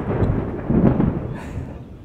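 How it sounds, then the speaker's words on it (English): Thunder rumbling in a violent thunderstorm with tornado warnings, a deep, loud roll that swells midway and slowly fades, with no voices over it. "we got some crazy thunderstorms"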